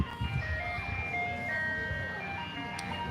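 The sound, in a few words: ice cream truck jingle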